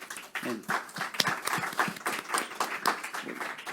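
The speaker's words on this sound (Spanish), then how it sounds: "vamos a recibirle con un fuerte aplauso" A church congregation claps to welcome their pastor, giving a quick, uneven patter of hand claps at moderate loudness that rises and falls in bursts, with a voice speaking over part of it.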